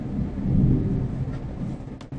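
A thunderstorm in the horror game The Little Ones rumbles low and steady, a heavy roll of thunder swelling early and then settling into a continuous dark drone with faint rain, no voices over it.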